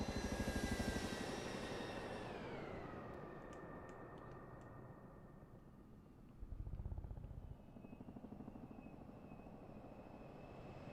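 Tandem-rotor Chinook helicopter in Microsoft Flight Simulator 2024 on PS5, a steady turbine whine and rotor drone with a high tone sliding downward as the engines spool, then holding level with a brief low thump midway.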